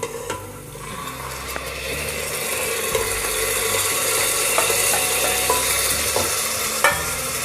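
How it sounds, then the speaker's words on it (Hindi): Tomatoes frying lightly over a medium flame after onions were browned, for a pressure-cooker vegetable biryani: a steady close sizzle with scraping stir noises and occasional clicks, no talking. "मीडियम फ्लेम पे हल्का हल्का ही हम टमाटर को फ्राई करेंगे।"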